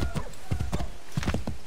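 Horse hooves clip-clop in the video game Assassin's Creed 3, a run of sharp, close thuds in an uneven galloping rhythm, with a faint whinny-like tone mixed in.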